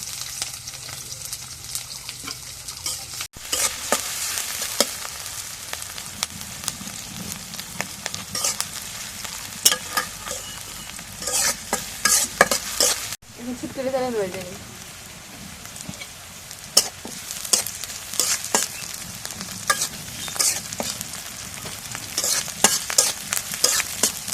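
Onion and green chilli frying in oil in a cooker pot, a steady close sizzle broken by repeated scraping stirs and clinks of a spoon, with no talk.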